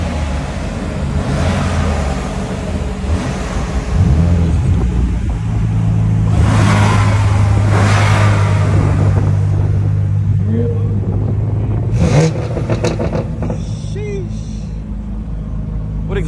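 BMW M4 fitted with a VRSF single mid pipe and catalyst exhaust at an exotic car meet, idling with a deep rumble and swelling into revs, heard under people chatting nearby.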